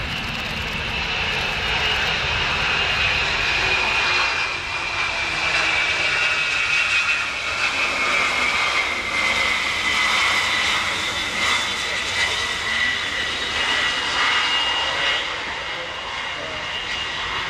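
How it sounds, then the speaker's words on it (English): A NATO Boeing E-3A Sentry AWACS jet, a 707-300 airframe, lands at RAF Fairford with a loud, continuous roar of its engines and a sustained high whine that holds for the whole stretch. "the NATO Boeing E3A Sentry"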